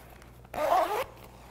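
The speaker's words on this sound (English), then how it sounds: "if you unzip your zipper" One quick zipper pull, a sewing zipper being unzipped, makes a short raspy burst lasting about half a second, close up against a quiet room.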